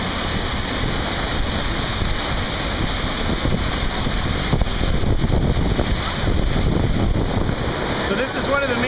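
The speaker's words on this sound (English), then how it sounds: "So here we are, pretty impressive waterfall." Water pours over the wide Kulen waterfall at Phnom Kulen, Cambodia, about 15 meters high, making a loud, constant roar that fills the whole scene, with wind noise on the microphone and a voice speaking faintly over it near the end.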